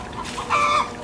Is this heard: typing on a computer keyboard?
no